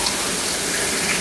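Water running from a tap into a small 6-ounce tomato paste can in a home kitchen, a brief steady gushing splash heard up close and alone.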